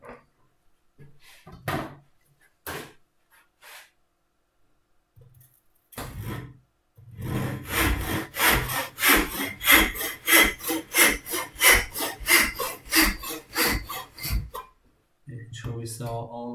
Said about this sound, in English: a couple of saw cuts here and here, and a little saw cut in the middle because it's such a long joint